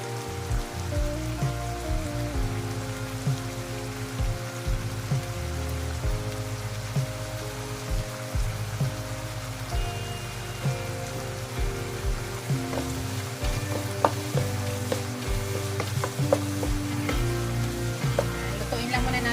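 Garlic sizzles steadily in a hot pan, cooked for a beef giniling with vegetables, with a continuous crackling hiss, scattered pops and a low background hum throughout, no voices.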